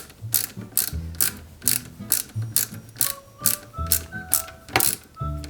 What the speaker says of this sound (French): on maintient cette pièce, tac, et on visse ça délicatement